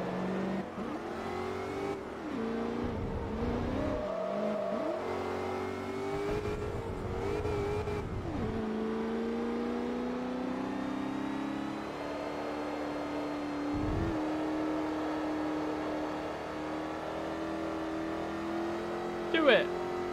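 A car engine in Forza Motorsport 3 revs and accelerates steadily through long rising pitch sweeps, cut by brief gear shifts, with someone talking over it throughout.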